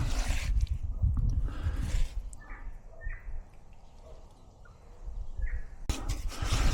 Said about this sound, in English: Don't know if you can hear all the tui in the trees,